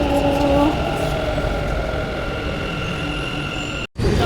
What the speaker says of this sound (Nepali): अहिले चाहिँ फाइनली मेरो चाहिँ मेट्रो पनि आयो